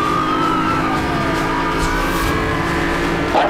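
Race car engine droning and shifting in the video game Need for Speed Hot Pursuit, a steady loud roar with rising and falling pitch sweeps and faint siren-like tones layered over it.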